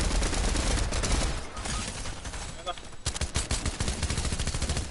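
Fortnite gunfire as dense, loud rapid automatic bursts that nearly fill the stretch, easing briefly before resuming as sharp repeated shots, with talking mixed in.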